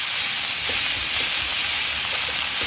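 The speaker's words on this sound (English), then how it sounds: "I'm going to fry all that off" Beef mince with onion and garlic fries in a pan at a camp cooking setup, a loud, continuous sizzle and hiss with faint stirring scrapes underneath, no speech.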